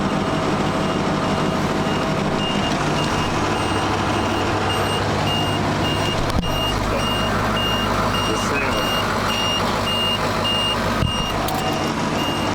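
Repeated electronic warning beep from a diesel truck, suspected low oil alarm, pulsing at a steady, even rhythm throughout over loud road and engine drone, with a faint voice briefly present.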